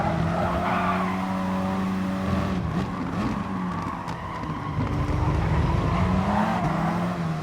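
Race cars bunched bumper to bumper on the final lap at Interlagos in Gran Turismo Sport, engines droning loudly with shifting pitch while tires squeal and skid through corners.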